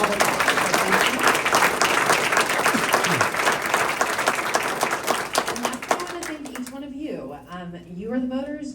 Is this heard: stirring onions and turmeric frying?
no